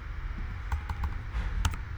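Keystrokes on a computer keyboard as an email address is typed, a handful of soft, scattered clicks over a steady low hum, close and fairly quiet with no voices.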